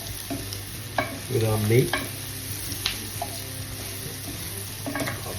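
Mushrooms frying in a hot mixture of butter and olive oil for beef bourguignon, with a steady sizzle and a few stirring scrapes and clatters in the pan, heard close up.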